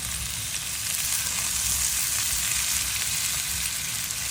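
Young potatoes fry in a pan as they are stirred, giving a constant loud, close hiss of sizzling oil with faint scraping underneath and no talk.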